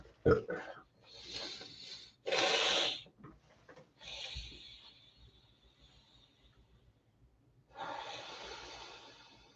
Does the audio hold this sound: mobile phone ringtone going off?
no